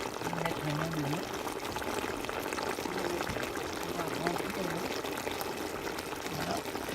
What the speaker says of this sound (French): On va aller mettre maintenant de l'eau.